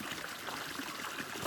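Stream at a water source along the Appalachian Trail, a steady broadband rush and trickle of flowing water, fairly faint and continuous throughout with no voices.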